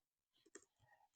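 Fingers type on a computer keyboard while coding, producing a quick, faint cluster of soft key clicks in a quiet room.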